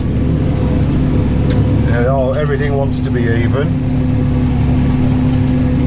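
A tractor with a front weight block runs at a steady low drone while ploughing out grass, loud and continuous, with someone talking over it.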